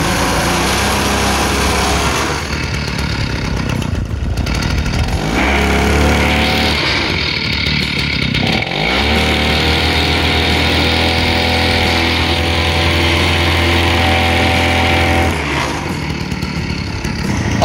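A Spider Mower slope mower's small engine runs steadily and loudly throughout, its pitch dipping and rising as the blades and gears are engaged, close by with no talk.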